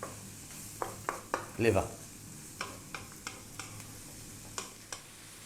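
Onions fry over medium heat in a pan for liver and onions, giving a soft sizzle broken by sharp scraping and tapping as they are stirred, with a voice speaking briefly.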